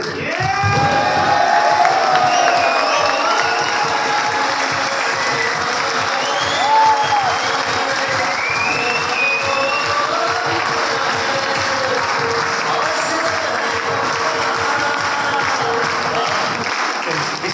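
A large audience at a motivational business talk claps steadily with whoops, whistles and scattered shouts, a dense crowd roar lasting throughout.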